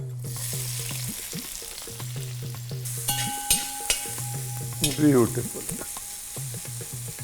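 Coarsely chopped garlic and ginger fry in a pan for Kolhapuri chicken curry, a close sizzle with clinks and scrapes of stirring, while a voice speaks briefly over it.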